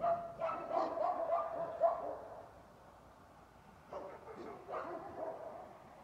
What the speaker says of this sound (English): You might not be able to hear them with all the dogs barking.